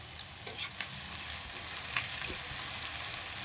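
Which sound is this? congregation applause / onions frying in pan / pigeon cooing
onions frying in pan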